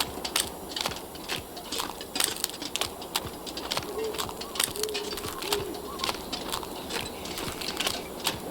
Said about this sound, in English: I just never heard owls converse like that.